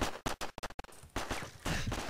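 Rapid gunfire bursts in Call of Duty 4 Modern Warfare, a quick string of sharp loud shots followed by sustained noisy firing, close and dense.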